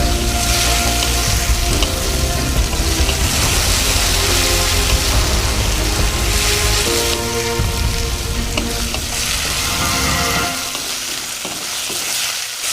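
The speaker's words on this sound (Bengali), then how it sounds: "পেঁয়াজটা একটু ভাজা ভাজা হয়ে গেছে।" Chopped onions for chicken kosha sizzle loudly in a pan over a low gas flame, with a steady crackling hiss and occasional stirring scrapes that ease off near the end.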